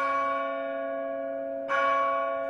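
Church bells in Tianjin ring in celebration of victory over Germany, a clear, sustained metallic tone with long ringing overtones, then a second strike that swells louder over the still-humming first.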